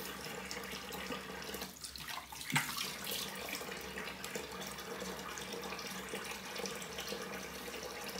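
Hot water running steadily from a bathroom tap during a wet shave with a vintage Schick safety razor, a continuous broadband rush of flow that stays even throughout with a brief splash partway through.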